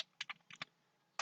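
Quiet keystrokes on a computer keyboard: four quick taps in a short burst, a pause, then one more clear press, close and alone with no voices.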